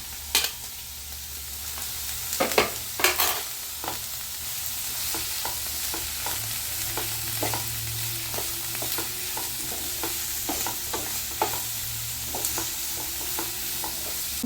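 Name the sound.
onion, capsicum and tomato sautéing in a pan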